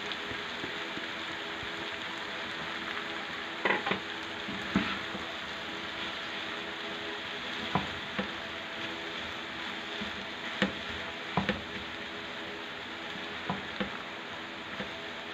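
Roasted fried daal stirred into bitter gourd frying in a pan: a moderate, steady sizzle broken by sharp spoon clicks and scrapes at irregular intervals, close up and without speech.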